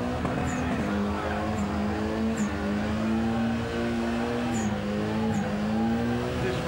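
A four-cylinder car doing a burnout at a Summernats burnout elimination event, with a steady high-revving engine drone and tyre noise held continuously throughout, loud and close.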